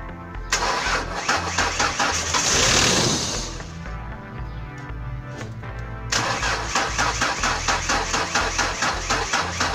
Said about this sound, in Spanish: ya no se pudo encender el auto